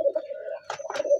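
A pigeon at a pigeon farm coos nearby, a soft, low, rolling call in several connected phrases with a brief pause in the middle, heard clearly and alone.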